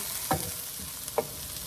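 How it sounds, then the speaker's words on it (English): Garlic sizzles in a pan while cooking pasta, a steady soft frying hiss with two brief stirring scrapes, close up and without talk. "Now I'm gonna add my garlic, and I'm just gonna let this cook for like 1 minute"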